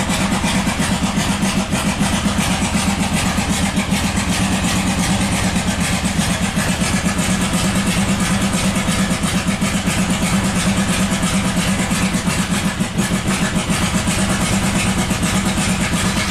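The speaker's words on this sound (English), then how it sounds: "This is the worst running engine I've ever seen in my life." A badly misfiring 1997 Buick 3100 V6 runs rough and steady, apparently on only one or two cylinders, with a loud, uneven chugging pulse that continues throughout without any voices.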